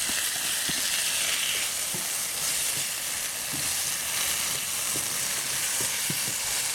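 Beef fries in a hot pan with a little salt, giving a loud, steady sizzle and crackle that runs unbroken from start to finish, with a few soft stirring knocks.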